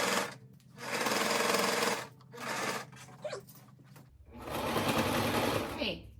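Sewing machine stitching a pinwheel lap quilt runs in bursts of rapid mechanical whirring, stopping and starting several times, close and fairly loud, with a voice speaking in the pauses.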